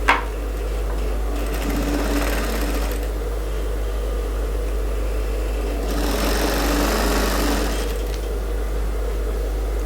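Sewing a straight seam on a women's suit, a sewing machine hums steadily with two louder bursts of fast stitching, close and alone with no talk.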